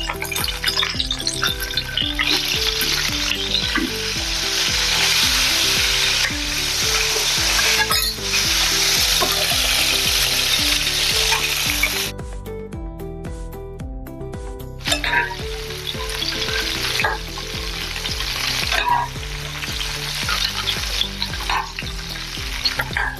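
Eggplant fries in about two spoons of oil in a pan, giving a loud, steady sizzle close up, with a short quieter break and stirring scrapes now and then.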